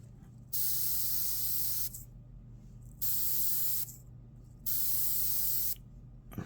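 An airbrush fed by a compressor at about 15 psi sprays paint onto a demon skull in three separate bursts of sharp, close hiss, each lasting roughly a second, with quiet gaps and a low steady hum beneath.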